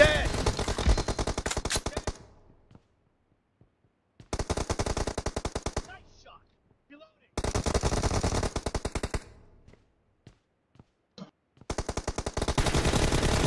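Rapid automatic gunfire in Battlegrounds Mobile India, four loud bursts of fast machine-gun shots separated by short silences, close and clear.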